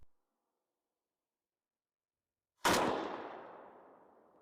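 A single loud PSL rifle shot cracks after a stretch of silence, its echo rolling and slowly fading.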